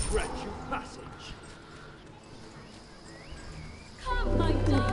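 Dogs barking in the video game Smite amid match noise, a burst of close barks and yips early, then quieter game effects and a loud surge of combat sounds near the end, with voices talking throughout.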